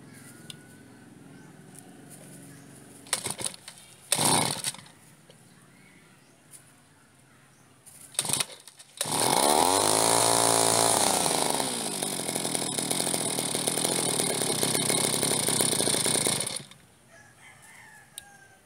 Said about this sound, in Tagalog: Umaandar na yung grass cutter.